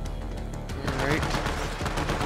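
Rapid automatic gunfire rattles in Borderlands 3, a dense burst of close shots that swells louder halfway through over a constant game background hum, with a voice speaking alongside.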